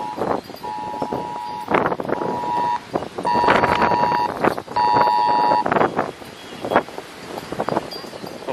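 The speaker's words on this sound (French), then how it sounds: "Donc là c'est mon téléphone qui me prévient qu'on passe en alerte rouge." Loud phone emergency alert for a cyclone red alert, sounding as repeated long steady electronic tones in bursts, with strong wind noise buffeting throughout and no speech.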